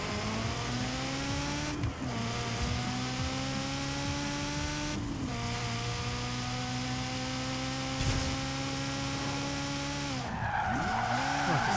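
Tyres squealing and skidding under handbrake in Forza Horizon 4 over a steady engine drone, with long sustained squeals broken by a few sharper skid bursts, no talk.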